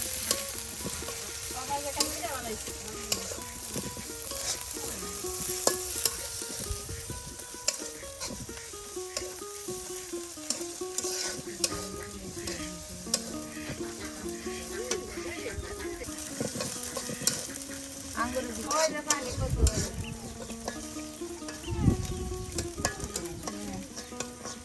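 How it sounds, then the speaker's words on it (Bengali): Chopped onion and chili frying together with ground spice paste in a village kitchen, a steady close sizzle with scraping stir strokes and utensil clinks throughout, and no talking. "এই বাটা মশলা দিয়ে এখন পেঁয়াজ কুচি মরিচ কুচি সব একসাথে ভেজে নেওয়া হচ্ছে"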